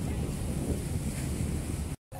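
Steady wash of sea surf with wind buffeting the microphone at a Hong Kong seaside in the afternoon, continuous and fairly loud, cutting out briefly near the end.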